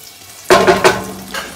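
Garlic hits a hot pan and sizzles sharply, with a few stirring bursts and scrapes close by as the frying settles into a steady crackle.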